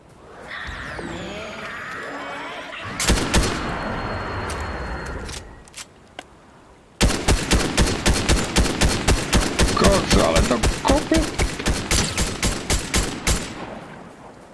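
Rapid automatic gunfire crackles through a Fortnite match: a burst of shots gives way to a pause with a few isolated cracks, then a long, evenly spaced string of loud, sharp rounds rattles on before stopping abruptly.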